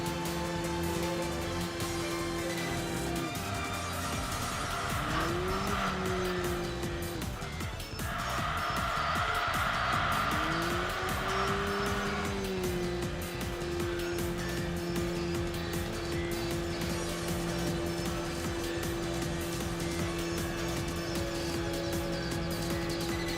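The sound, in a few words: race car driving and cornering in the video game Enthusia Professional Racing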